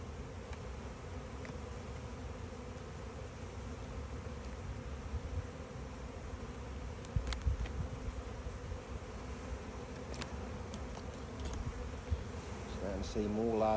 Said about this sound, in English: Having a really close look at all of these bees.